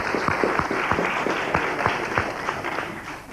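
Applause from a 1984 revue audience in Buchy fills the room, a steady roomy patter of many hands over a continuous background hum, with a few louder individual claps.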